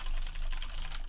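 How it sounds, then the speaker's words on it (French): Typing on a mechanical keyboard sounds as a fast, dense run of close key clacks with no noise filtering applied, continuous over about a second. "on va tester le clavier mécanique avec le filtre Air and Noise"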